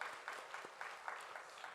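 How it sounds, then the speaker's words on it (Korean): A church congregation claps during a Sunday service in a faint, distant, rhythmic beat, with regular pulses of roughly four per second. "우리 감사하다고 박수하겠습니다"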